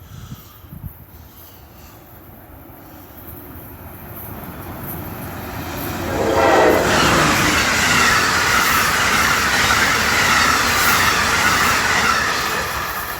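An Amtrak passenger train rumbles past, swelling from a distant roar to a loud, close, steady rush of wheels and cars that slowly eases. No clear horn blast stands out.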